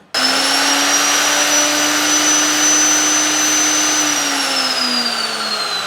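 NRT Pro 2490 VB metal cut-off saw running at speed, a loud, steady high-pitched motor whine that starts abruptly and holds evenly, easing slightly in pitch near the end, with no talking.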